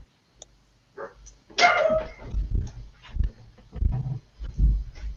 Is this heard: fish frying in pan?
no